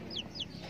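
A joper chicken, about four years old, gives two quick close clucks in a short burst, clear against a quiet background.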